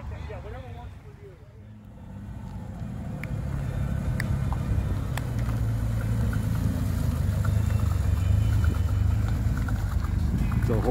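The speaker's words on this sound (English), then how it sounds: "It's a whole lot of motor shoved down in that little car." A small car with a big engine rolls in at a horsepower event, a low engine rumble building after a quieter start and holding steady under wind noise and nearby voices.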